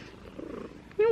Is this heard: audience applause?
no